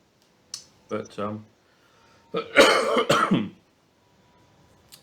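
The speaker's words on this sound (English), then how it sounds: "one day I'll get rid of this cough" A couple of short, harsh coughs up close, the second burst longer and rougher, separated by silence.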